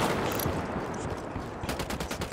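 Gunfire in the video game Ghost Recon Wildlands, a loud, continuous rattle of rapid shots close by, with a quick run of distinct reports near the end.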